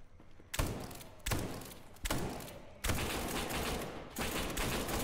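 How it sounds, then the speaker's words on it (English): Shotgun fire in the video game SCP 5K: four loud, booming blasts spaced about a second apart, each leaving a long rumbling tail that fills the gap before the next shot. "The shotgun."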